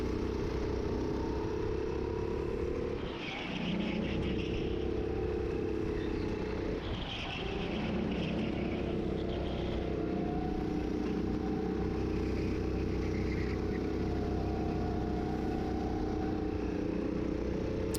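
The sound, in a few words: rental go-kart engine racing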